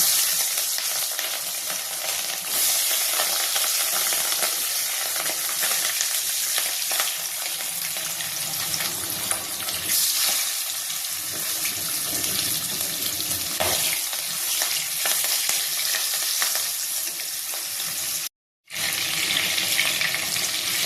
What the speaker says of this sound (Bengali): মাছগুলো এবার হালকা করে ভেজে নেব।